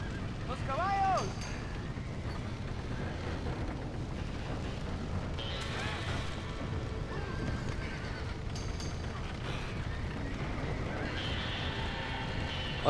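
Horses whinnying and hooves clip-clopping in the video game Red Dead Redemption, a few sharp neighs standing out over a steady rumbling bed of game noise, with a player talking at times.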